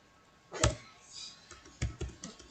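Fingers typing on a computer keyboard, a few soft scattered keystrokes and taps, quiet and close, with no voices.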